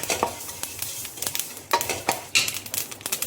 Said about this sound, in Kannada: ಇವಾಗ ಇದೇ ಬಾಣಲಿಗೆ 2 ಟೀ ಸ್ಪೂನ್ ಆಗುವಷ್ಟು ಬಿಳಿ ಎಳ್ಳು ಹಾಕೊಳ್ತಿದ್ದೀನಿ. ಇದು ಸ್ವಲ್ಪ ಫ್ರೈ ಆಗಬೇಕು.